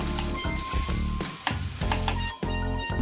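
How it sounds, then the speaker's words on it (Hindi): Mashed potato being stirred into browning fried onions in a pan for aloo patties, a repeated scraping and sizzling rhythm of spoon strokes roughly every half second, close and steady, no voices. "अब हम इसमें मैश किया हुआ आलू को ऐड कर देंगे। इसे हम अच्छे से मिक्स कर लेते हैं।"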